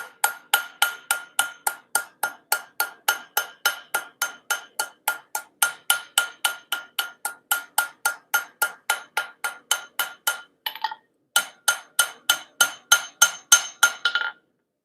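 A cross peen hammer forging metal hooks rings in a fast, even run of bright metallic strikes on the anvil, close and loud, with one short pause before the blows resume.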